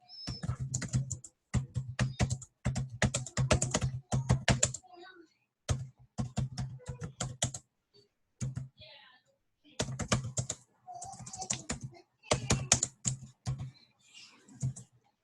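Rapid bursts of typing on a computer keyboard, close and crisp, arriving in clustered rhythmic runs separated by short pauses.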